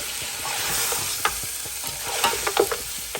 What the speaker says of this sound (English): And then just give it a stir.